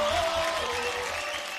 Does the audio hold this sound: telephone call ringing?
no